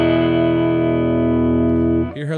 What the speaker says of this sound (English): You hear those tubes break up?